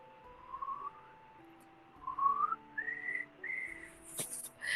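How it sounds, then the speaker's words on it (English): A person whistles a short, wavering tune in several separate rising phrases, fairly quiet and close, with a brief clatter near the end and no talking. "can I actually whistle it?"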